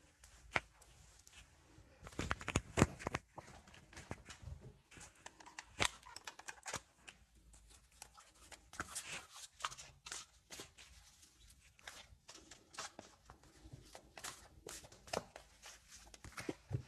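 A deck of oracle cards being shuffled by hand, with quiet irregular bursts of riffling and flicking, soft papery clicks and rustles scattered with pauses throughout.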